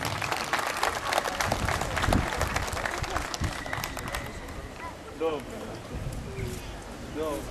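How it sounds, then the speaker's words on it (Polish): Crowd applauding at a knights' tournament in Chojnice, loud sustained clapping that thins out midway, with a voice and a few whistle-like tones heard toward the end. "Brawa dla nich!"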